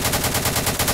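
Rapid gunfire in the Roblox naval battle game Harbour Havoc: a fast, even burst of repeated shots, loud and continuous for the full second, with no voices over it.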